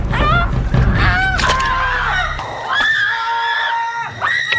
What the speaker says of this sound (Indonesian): teriakan itu semakin kencang